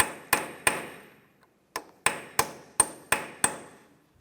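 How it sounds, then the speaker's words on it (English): A punch or chisel struck with a hammer against a peened axle nut on a 2007-2013 Mini Cooper front CV axle, giving nine sharp metallic pinging blows with a short pause after the first two, each ringing briefly. "Just use a punch or a chisel and just get underneath there."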